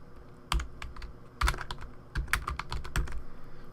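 Computer keyboard typing a Photoshop layer group name, with bursts of close, crisp key clicks in uneven clusters and a few louder strikes, and no talk.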